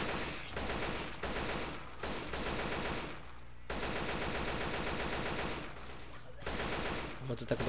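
AK-47 fire in the video game Left 4 Dead 2 comes as long sustained automatic bursts split by short pauses, loud and close throughout.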